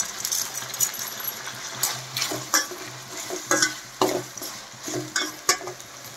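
Onions sautéing with salt in a pan for a spicy rabbit gravy: a soft background sizzle broken by repeated scraping stirs and metallic clinks of a spoon against the pan, close and clear.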